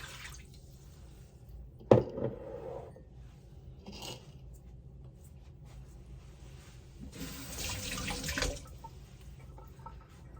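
Soaking water from black kavuni rice poured into a pot, a sharp clink near the start, then a soft trickle and a louder steady splash of liquid later on, with no talk.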